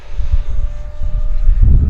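A Marlin 64mm 4S sport jet RC model roars through aerobatics overhead, a loud continuous ducted-fan whoosh rising in intensity toward the end.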